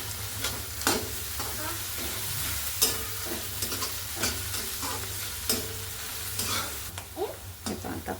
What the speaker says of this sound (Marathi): आपण हे छान परतून घेतला. जास्त लालसर कांदा करायचा नाही.